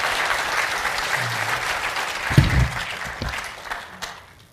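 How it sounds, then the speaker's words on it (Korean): A church audience claps to welcome guest speaker Steve Bender at an evening service, with steady applause, a few louder thumps and murmurs partway through, then a gradual fade at the end. "여러분 박수로 환영해 주시기 바랍니다"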